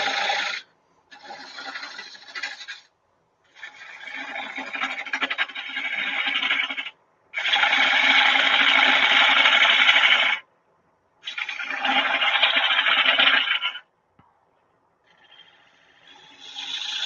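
A woodturning tool hollowing a beech bowl on a lathe, rasping scraping cuts in several long bursts separated by short pauses, loud and close with no talk.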